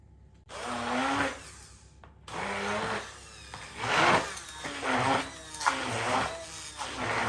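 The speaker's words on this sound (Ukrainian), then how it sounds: "або просто погружним блендером" An immersion blender whirring in short bursts, its motor pitch rising and dipping as it churns food into a thick, creamy purée for a casserole, close up.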